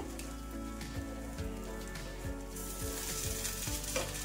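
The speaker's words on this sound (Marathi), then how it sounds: "आता छान क्रिस्पी होईपर्यंत आपल्याला डोसा शेकून घ्यायचा आहे।" A green moong sprout dosa fries on a hot pan until crisp, giving a continuous crackling sizzle with fine popping. It stays steady and close throughout, with no voices.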